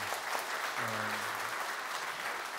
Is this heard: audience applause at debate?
yes